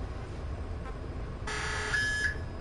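A short, quiet electronic beep from Metal Gear Solid V sounds once over faint background hiss, a brief buzzy tone before it stops.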